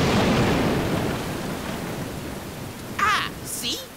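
Steady rain pours down as a broad wash of hiss, loud at first and easing over several seconds, with a brief whistling, chirping sound toward the end.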